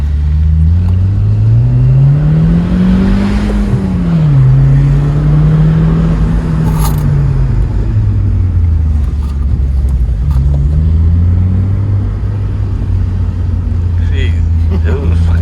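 Supercharged 2013 Honda CR-Z Mugen hybrid with a manual gearbox accelerating hard, the loud engine note climbing and falling through gears in a sustained close roar, with a voice talking over it.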